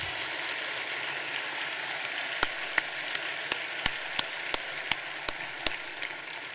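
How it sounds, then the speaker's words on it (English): Audience at a Washington Youth Challenge Academy cadet commencement clapping, a soft steady patter of many hands with a run of sharper, evenly spaced single claps cutting through near the end. "Go ahead and clap."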